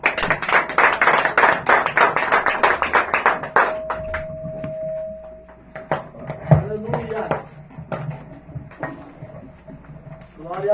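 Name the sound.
church congregation clapping hands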